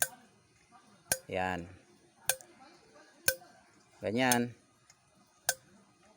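Valves of a motorcycle engine in good condition ticking: sharp, isolated clicks about once a second, with someone talking between them.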